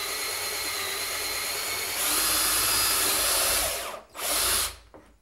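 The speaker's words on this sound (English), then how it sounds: "push your drill through there, and that's gonna give you a nice straight hole" A power drill bores a hole up through the underside of a countertop while a hands-free faucet is installed, giving a steady loud whine that rises in pitch partway through, briefly stops, then resumes before cutting off.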